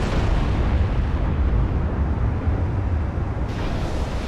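Heavy 16-inch battleship shells strike a ship in Ultimate Admiral Dreadnoughts, producing a continuous loud roar of explosive impacts that hold steady for several seconds with no voices.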